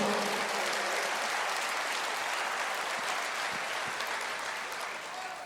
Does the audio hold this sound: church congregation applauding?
yes